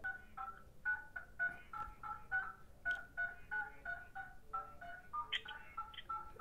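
A Samsung Galaxy Watch sends a quick run of DTMF keypad tones: about a dozen short, evenly spaced dual-tone beeps, clear and fairly faint, with no talking.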